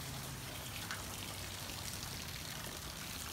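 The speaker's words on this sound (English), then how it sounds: "Holy cow! It's raining." Steady rain falling in a backyard, a soft continuous hiss of drops and splashing heard from an open doorway, faint and unbroken throughout.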